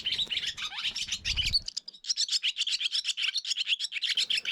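A swallow sings a rapid twittering warble of chirps and trills, with a brief pause and then a fast run of repeated notes, close and clear over faint low rustling.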